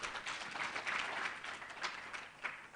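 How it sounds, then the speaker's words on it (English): Audience clapping at a teacher awards event, a continuous spread of hands applauding in a hall, fairly faint and distant, steady for a few seconds with no break. "let's give her another round of applause"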